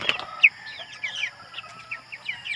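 Broiler chickens clucking and giving short chirpy calls, several birds close by in quick irregular bursts over a quiet background.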